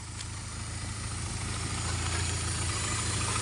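A car engine idles steadily at a fairly even pace, close and moderately loud with a constant low hum and no talking.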